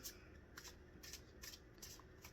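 Tarot cards being shuffled by hand, soft papery riffles and slides repeating in a loose rhythm every half second or so, faint and close over a steady low background hum.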